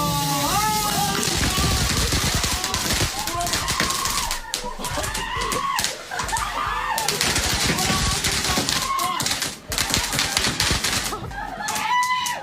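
Fireworks going off inside a family's house in Germany, a dense, continuous barrage of rapid crackling bangs and pops, loud and chaotic, with occasional voices mixed in.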